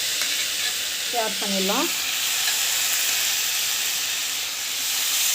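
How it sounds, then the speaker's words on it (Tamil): Food sautéing in a pan in a home kitchen, a steady broad sizzle and hiss running throughout, with a brief voice speaking over it near the start. "நல்லா வதங்கட்டும்"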